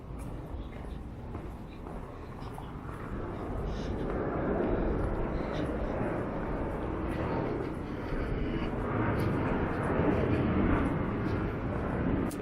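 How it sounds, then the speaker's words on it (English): An aeroplane passes overhead near London City Airport, a broad steady roar that swells in the middle and holds, loud and continuous, with faint voices in the background. "Aeroplane."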